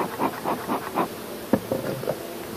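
Soft, pulsing buzz of many New Zealand honey bees humming together inside a hive, close by, with a few brief knocks and rustles in between.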